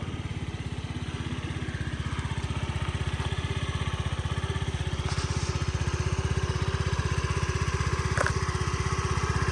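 A fuel-injected Honda Dio AF-68 scooter engine runs steadily, a close, even, buzzing putter with fast regular pulses that holds at the same level throughout, with no voices over it.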